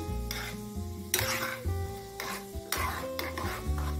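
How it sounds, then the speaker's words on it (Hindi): Cashews fry in hot oil for homemade poha chivda, crackling and sizzling steadily. A spatula scrapes and stirs through the pan in bursts, with soft music playing underneath. "अभी हम इसमें काजू डाल देते हैं और इसे भी हम कर लेंगे फ्राई"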